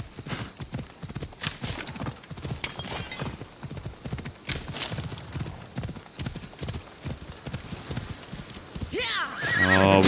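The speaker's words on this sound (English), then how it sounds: "she fell off the horse." Horse hooves clip-clop in a steady galloping rhythm in Assassin's Creed Odyssey, with a whinny near the end and a voice talking over the hoofbeats throughout.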